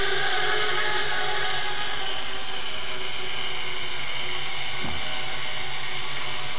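Steady high-pitched whine of an X-configuration multicopter's electric motors on a KK2 board spinning up under throttle, a constant loud buzz that holds throughout.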